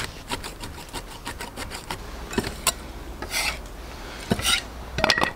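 A knife chops pickled ginger and Sichuan peppercorns on a board in a Chinese kitchen, irregular sharp close taps with some scraping, alone without talk.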